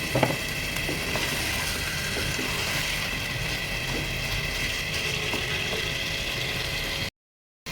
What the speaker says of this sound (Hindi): जो हमारी कढ़ाई है तो वो चिकन जो है वो तकरीबन फ्राई हो चुकी है